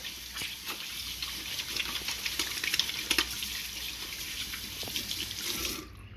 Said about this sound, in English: Get them under the water.